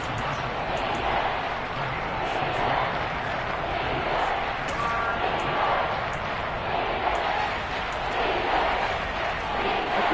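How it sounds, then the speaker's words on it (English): A large football stadium crowd roars steadily for several seconds, a broad, continuous wash of cheering and noise that stays loud throughout, with an announcer talking over it. "the crowd getting into it as we come up on a big 3rd down"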